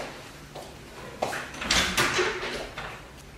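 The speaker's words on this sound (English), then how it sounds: "Let me get the" Door being opened, with a few soft knocks and clunks and a brief sliding, rustling rush of movement in a quiet indoor room.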